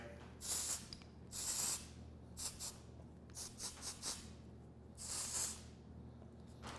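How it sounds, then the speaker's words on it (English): Hairspray spritzed from an aerosol can in short hissing bursts: several longer sprays and a quick cluster of brief puffs, close and clear with no talking. "This is my current locked hairspray."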